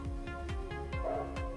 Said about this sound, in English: Heard a bark, but now it's gone.